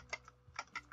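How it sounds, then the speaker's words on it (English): Loud mechanical computer keyboard clicking in a quick burst of separate keystrokes, close to the microphone, with no talking, during a Roblox Tower of Hell game. "I'm sorry for all the loud clickety clacking, guys. I know. My keyboard is super loud."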